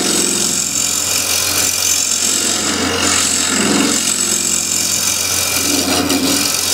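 Scraper cutting a walnut bowl spinning on a wood lathe, a loud continuous rough scraping and whirring hum close up, unbroken for several seconds.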